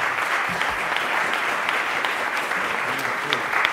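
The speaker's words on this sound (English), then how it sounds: "Give them a round of applause." Audience applause at a documentary festival panel event, a steady dense wash of clapping throughout, fairly loud and continuous with no talk over it.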